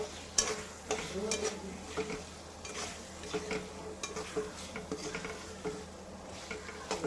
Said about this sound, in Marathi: आता ते मिश्रण देखील आपण व्यवस्थित परतून घेऊया.